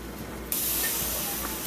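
Steam hissing during cooking, a sudden loud broadband rush that bursts in partway through and then holds steady and close.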